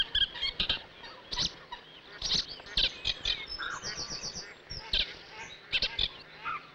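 A male Cetti's warbler sings loud, abrupt bursts of sharp chirping notes in reeds, separated by short pauses, close and clear against a quiet background.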